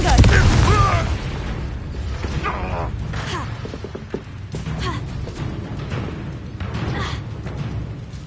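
Fiery Confringo spell blast in the video game Hogwarts Legacy: a loud boom opens the clip, then a rumbling crackle trails off under continuing game noise and effects.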